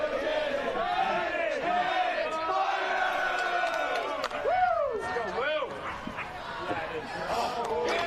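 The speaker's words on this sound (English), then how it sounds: "You can hear them in the background cheering their defensive line on." Sideline crowd at a men's college ultimate frisbee game, Lewis & Clark vs. Middlebury, cheering their defensive line with steady yells and whoops in the background under continuous commentary.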